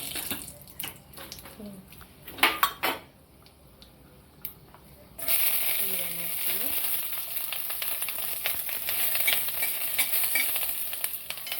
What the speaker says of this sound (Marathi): आपण ह्यामध्ये थोडंसं तेल होतो पण अगोदर हे खडे मसाले टाकू त्यात